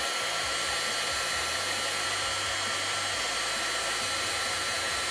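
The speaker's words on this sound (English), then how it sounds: "we'll take our heat gun. Now it's very noisy" A heat gun melts embossing powder on a birthday greeting, a loud, steady blowing roar of hot air that runs unbroken throughout with a low motor hum underneath.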